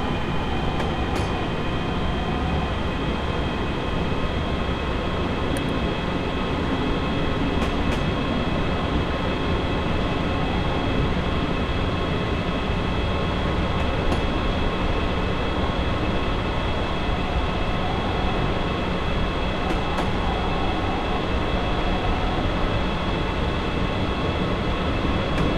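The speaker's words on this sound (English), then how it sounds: "this locomotive just isn't all that powerful is affecting our ability to accelerate" Class 76 electric locomotive in Train Simulator 2015 straining to accelerate uphill on a gradient: a steady, dense rumble of rail running and traction motors with a constant electrical whine, loud and continuous with no talk.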